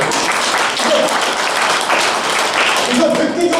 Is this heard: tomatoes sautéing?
no